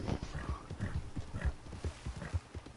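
Horse hooves clip-clop in a steady, even rhythm at close range, fairly quiet, with no voices over them.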